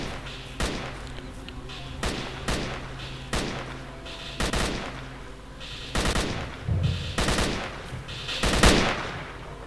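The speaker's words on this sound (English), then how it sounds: "he's just randomly shooting in all directions" An enemy in the video game S.T.A.L.K.E.R.: Call of Pripyat fires repeated loud gunshots in scattered single shots and short bursts over a steady background hum.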